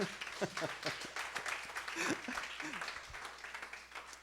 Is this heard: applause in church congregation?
yes